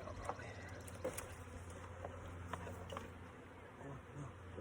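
Bees buzz faintly and continuously during installation into a log hive outdoors, a soft steady hum with occasional closer passes over low background noise.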